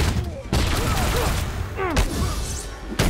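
Turret gunfire in Marvel's Spider-Man, a burst of sharp, loud bangs with whooshing sweeps and impacts over a busy game-combat din, with a voice speaking briefly over it.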